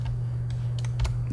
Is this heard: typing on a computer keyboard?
yes